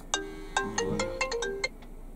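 A mobile phone ringtone plays inside a Gazelle Next van parked at a loading site, a bright electronic melody of quick repeated notes ringing out clearly on its own for a couple of seconds.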